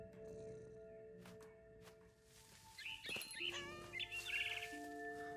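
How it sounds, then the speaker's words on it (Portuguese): Birds chirp and tweet in a scene from the video game What Remains of Edith Finch, rapid bright calls clustering in the second half over quiet game ambience and soft tones, with no talk. "Ah, a gente tem que tentar pegar o passarinho."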